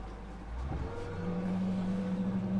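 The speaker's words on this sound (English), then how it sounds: "Hear a little boat noise in the background" Boat engine droning in the background during a freediving championship off Roatan, a low steady motor hum that rises slightly and holds, with no one speaking.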